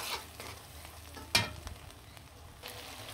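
Chopped onion frying in mustard oil, a soft sizzle broken by scraping stirs and one sharp clatter, fairly quiet with no talk.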